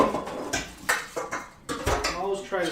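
Boiled pasta being strained in a kitchen pot for cannabis-infused pesto, with metallic clanks, knocks and watery sloshing close by while a person talks throughout.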